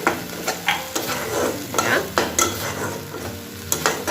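Spices with Kashmiri chili powder fry in a pan while a spoon stirs them, a steady close sizzle broken by regular scraping strokes and soft clinks against the pan, with no talking.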